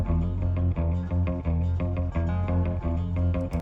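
Reverb-washed blues guitar loops sit in the background of a neurofunk drum and bass track, blended into a dense mix with rolling upright bass and steady drums.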